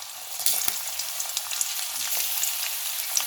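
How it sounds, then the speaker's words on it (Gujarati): Cumin, grated ginger, chili and garlic frying in hot oil for a Gujarati dal, a bright steady sizzle with scattered small pops and crackles, close and fairly loud. "જીરું થોડું ચટકે એટલે આપણે એમાં આદુ, મરચાં અને લસણને આપણે પીસીને રાખ્યા છે, છીણીને એને આપણે આમાં એડ કરી દઈશું"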